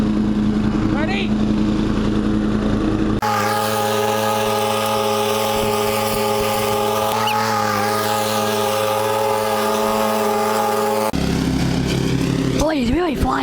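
A Murray riding lawn mower engine runs steadily with a strong droning hum while the rider moves in fourth gear, its pitch shifting as it picks up speed, with a person talking over it at the start and end.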